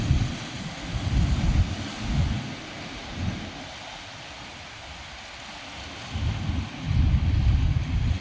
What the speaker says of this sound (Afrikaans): Kyk daai golwe daar aan die kant.